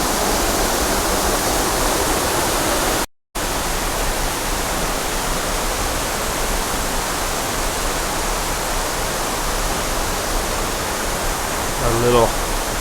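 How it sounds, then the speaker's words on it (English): Small seasonal waterfall outside Cueva del Choco in Colombia, a steady broadband rush of falling water that stays constant and close throughout, with a brief dropout and a faint chirp near the end. "A little seasonal waterfall coming down over there."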